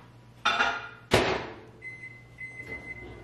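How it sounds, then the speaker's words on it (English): A microwave oven is loaded with a frozen lemon juice cube: two sharp door-and-button knocks, then a steady electronic beep-like hum as it starts running, close up in a quiet kitchen. "I'll pop a cube right in here, and I'll just throw it in the microwave."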